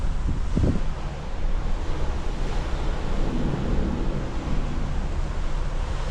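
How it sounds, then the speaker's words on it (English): Ocean waves and wind heard from a boat in the middle of the ocean make a constant, loud wash of rushing noise and wind buffeting, with no talking. "I'm on a boat in the middle of the ocean, crossing the ocean right now."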